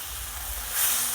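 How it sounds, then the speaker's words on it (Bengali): Water poured onto frying spices, including cumin powder, in a hot pan, giving a loud, steady steam hiss that swells toward the end. "এবার অল্প একটু জল দেবো"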